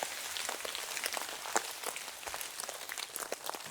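Rain dripping through a forest just after the rain stops in the video game Kingdom Come: Deliverance 2, a quiet, dense patter of scattered drops on leaves and branches with occasional sharper taps.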